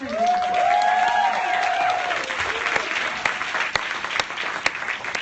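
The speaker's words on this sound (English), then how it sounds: "can we get a round of applause?" An audience at a summit keynote bursts into loud applause that thins out after a couple of seconds into scattered individual claps.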